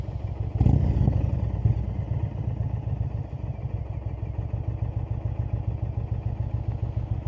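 An Indian Springfield motorcycle engine runs close by with a steady, pulsing idle rumble, a brief louder thump near the start, with no talk over it.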